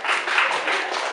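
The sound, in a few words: audience applause for a seminar speaker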